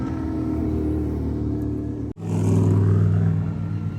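Race cars on the Daytona track during an SCCA practice and endurance race weekend give a loud, steady engine roar, which dips for a moment and then swells again.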